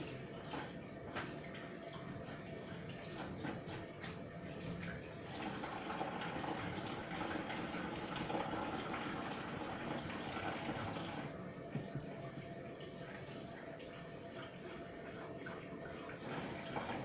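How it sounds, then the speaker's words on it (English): Tap water runs steadily as hands are washed at a sink, a continuous close wash of splashing flow with small ticks and drips, no talking over it. "I'll just wash my hands now"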